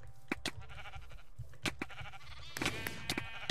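Sheep bleating in Minecraft during an arcade minigame, several short bleats mixed with sharp clicks and game effects, under a steady low hum, with no voices.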